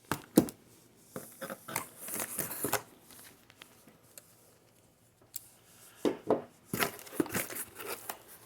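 Tape being torn off the cardboard box of an Atari 2600 during an unboxing, with sharp crinkling and ripping bursts in quick clusters, pauses between them, close to the listener and with no voices.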